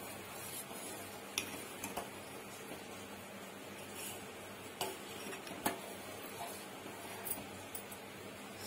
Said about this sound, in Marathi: अधून मधून छान अशी हलवून घ्यायची. खीर खाली जळायला नको.